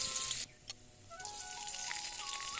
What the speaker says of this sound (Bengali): আমি কড়াইতে দিয়ে দেবো তেল, ফোড়ন, দিয়ে দেবো আদা কুচি